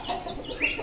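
Chickens cluck briefly nearby in a backyard flock, a short soft burst of clucks and squawks.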